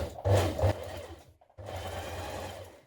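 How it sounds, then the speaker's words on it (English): A sewing machine stitches two coat belt pieces together lengthways, sewing in two close bursts broken by a brief pause. "Now stitch your two belt pieces together lengthways with right sides facing."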